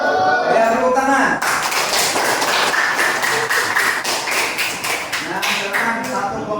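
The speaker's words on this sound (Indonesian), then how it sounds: "Ya, tepuk tangan." A classroom of children applauds, a dense burst of rapid clapping that starts suddenly after a moment of voices and continues steadily and close, with some speech mixed in.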